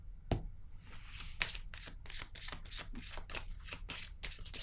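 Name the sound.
shuffling and drawing a card from a deck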